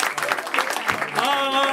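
Audience at the close of a live show clapping under an announcer's talk, the applause a soft continuous wash while a voice speaks over it and then draws out a vowel.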